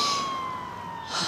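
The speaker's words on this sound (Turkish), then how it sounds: "Ay ay ay, ambulans ambulans." An ambulance siren wails steadily on the road, a single drawn-out electronic tone holding throughout at moderate loudness, as if nearby from inside a car.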